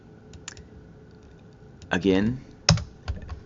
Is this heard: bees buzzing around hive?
no